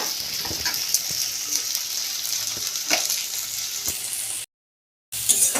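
Chili powder, turmeric and salt fry in a pan with tomato, a steady crackling sizzle with occasional stirring clicks and scrapes, close and continuous, broken by a brief silent gap near the end.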